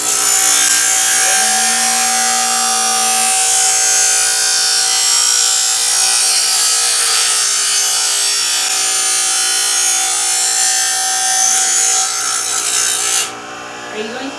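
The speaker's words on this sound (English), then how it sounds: "Yep, I'm sharpening knives." A blade is sharpened, likely a machete or hatchet, with a loud, continuous grinding rasp that holds steady and cuts off abruptly near the end.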